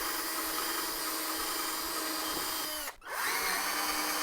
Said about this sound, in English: while I have the drill out, I'm gonna go ahead and drill out the top and the bottom